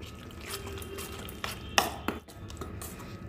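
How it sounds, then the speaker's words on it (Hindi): Vegetable rava appam batter being stirred in a bowl, a quiet steady scraping and swishing with a few sharper clinks of the spoon against the side, close and alone. "अब इसको अच्छे से मिक्स कर लेंगे।"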